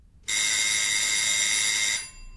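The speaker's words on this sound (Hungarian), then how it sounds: "Gondolataiból az ajtócsengő harsogó berregése ébresztette." A loud, harsh electric buzz sounds continuously for about two seconds, then cuts off abruptly into quiet room tone.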